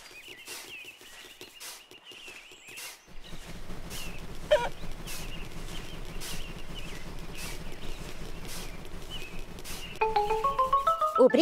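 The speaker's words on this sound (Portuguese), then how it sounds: "Só faltam mais duas galinhas." Chickens cluck softly in a Peppa Pig video game on PS5, with light, bright calls over a gentle game backdrop that grows busier toward the end.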